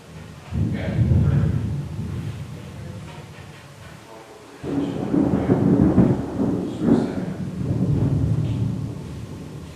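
Thunder from a lightning storm rumbles deep and heavy in two long rolling waves, the second following a short lull, loud and close with no talk over it.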